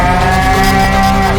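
A cow moo alarm tone called Legendary Moo, one loud sustained bovine moo with a steady droning pitch, heard alone and close.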